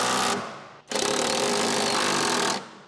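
An electric impact wrench with an 18mm socket tightens the strut tower top and body fixing bolts on a 2012-2015 Chevrolet Cruze, heard as two loud, close, buzzing hammering bursts split by a brief pause.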